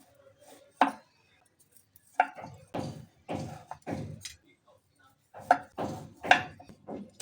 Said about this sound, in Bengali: আমি আগে পিস পিস করে কেটে নিচ্ছি।